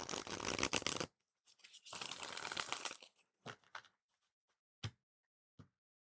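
Tarot cards being shuffled by hand in short bursts of papery riffling and crinkling, a long run at the start and another mid-clip, then a few separate soft taps and card snaps.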